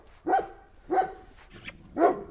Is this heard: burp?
no